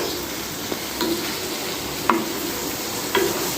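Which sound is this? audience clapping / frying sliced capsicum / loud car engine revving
frying sliced capsicum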